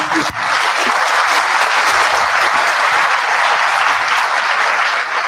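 Audience applause for Kenyan leader Raila Amolo Odinga at a public event, a loud, dense and steady burst of clapping from a large crowd that holds at full strength for about five seconds.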